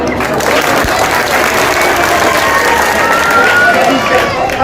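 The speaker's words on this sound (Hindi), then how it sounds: "ताली बजाओ।" A large crowd at an election rally applauds loudly and continuously, a dense, sustained clapping wash that fills the whole stretch.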